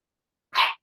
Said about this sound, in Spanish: Disculpen el ruido de los perritos, tengo dos perritos nuevos acá.